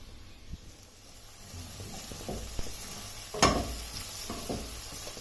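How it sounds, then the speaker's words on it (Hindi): Chopped onion fries in oil in a pan, a low continuous sizzle with scraping stir strokes that grow busier, including one louder scrape midway. "अब प्याज को इसमें लाइट गोल्डन ब्राउन कलर आने तक फ्राई होने देना है।"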